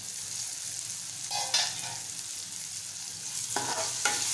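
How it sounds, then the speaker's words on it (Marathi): Spicy Malvani-style soyabean chilli is sautéed in a pan with a steady, moderately loud sizzle. Occasional scraping stirs come through close by, and nobody speaks. "आणि छान परतून घेऊया।"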